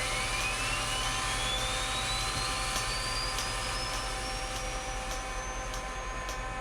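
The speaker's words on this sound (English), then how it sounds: "once the aircraft gets enough juice going there, it's going to start firing itself up automatically" Jet engine spooling up during startup of a TF-104G in Microsoft Flight Simulator: a steady, loud turbine whine rises slowly in pitch over a dense broadband roar, with faint periodic ticks, no voices.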